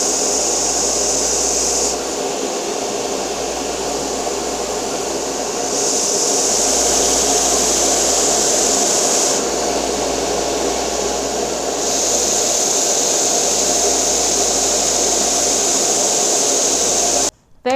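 A belt sander grinds aggressively across a carbon fiber part, a steady loud whirring roar with a hissing abrasive edge that swells and eases in long passes, running alone before cutting off abruptly at the end.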